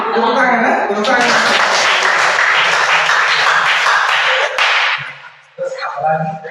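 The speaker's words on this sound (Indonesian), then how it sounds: "Tepuk tangan ya, tepuk tangan." Students clapping in a classroom, a loud, dense burst of applause that fills several seconds and then stops abruptly, followed by a short voice.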